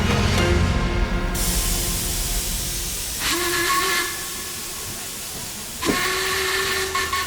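Steam train whistle sounding two drawn-out blasts over a continuous loud hiss of steam, each blast rising sharply and holding for about a second, with no voices.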